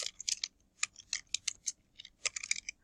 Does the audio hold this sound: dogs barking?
no